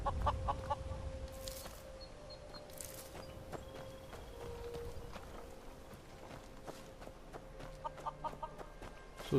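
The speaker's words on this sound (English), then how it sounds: "Oh, this chicken." A chicken in Skyrim clucks in short scattered bursts amid hoof clip-clop and quiet outdoor ambience, all fairly faint.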